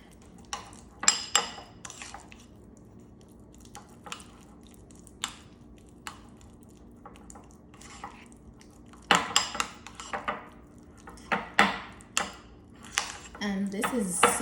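Garlic butter being mixed in a bowl with minced garlic, heard as scattered clinks and scrapes of a utensil against the dish, close by and moderately loud, with a busier run of stirring knocks toward the end and no talking.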